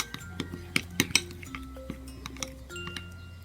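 A utensil stirs Oreo slime and glue in a bowl, producing a run of sharp, close clinks and taps against the dish at an uneven pace over a low hum, with no one talking.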